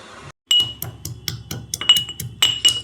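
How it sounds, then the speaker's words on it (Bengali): Garlic cloves are pounded in a brass mortar with a pestle: about a dozen sharp, ringing metallic strikes in a quick, uneven rhythm, close and clear, after a brief silent gap. "আমি একটা হামান ডান্ডিতে থেতো করে নিচ্ছি রসুনটাকে"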